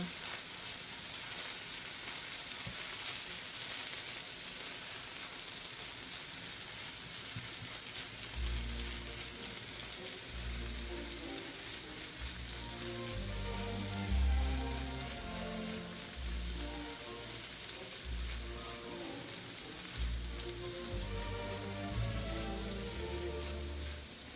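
Bell peppers cook in a pan over the heat for pepper jam, giving a steady soft sizzle with faint stirring scrapes and low bumps from about eight seconds on, no talking.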